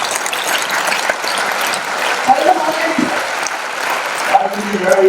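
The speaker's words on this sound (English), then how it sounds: "Give a huge round of applause." An audience at a Saturday evening lecture gives a big round of applause, a dense, steady wash of clapping that carries on throughout with no pauses.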